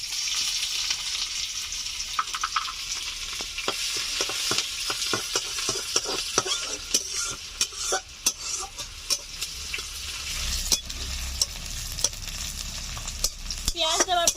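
Chopped onion, from one large onion, hits hot oil in a pan and is stirred, producing a close steady sizzle broken by frequent scraping and tapping strokes of the spoon, busier toward the end, with no one talking.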